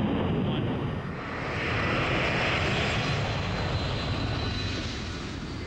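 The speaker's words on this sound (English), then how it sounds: "They'll keep the brakes on until each turbofan reaches its maximum thrust." Turbofan engines of a C-5 transport plane run at full takeoff thrust, a loud, steady, broadband roar and rushing hiss that fills the whole stretch and swells slightly midway.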